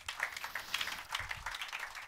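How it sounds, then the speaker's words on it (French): Church congregation applauding and cheering together during a French-language service, a steady wash of many hands clapping with crowd noise, sustained throughout. "Donnez-moi l'acclamation, Seigneur."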